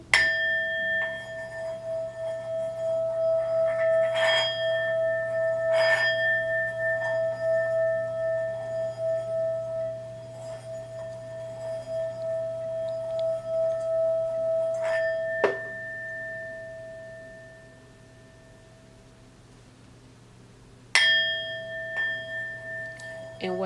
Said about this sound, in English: And then I'm using my Tibetan singing bowl that I got from my bestie.